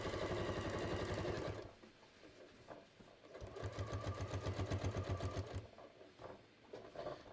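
A sewing machine stitches down the waistband of a pair of shorts, running in two steady bursts of rapid, even stitching separated by a short pause, close and loud.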